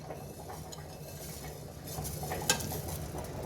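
Dry masala spices with coriander and flax seeds roast in a pan over a very low flame, giving a faint, soft crackle and light scraping from stirring, with a single brief clink near the end.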